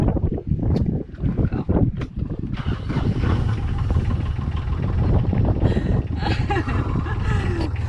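A sailboat's engine cranks and catches, then settles into a steady rumbling idle, with wind buffeting the microphone throughout.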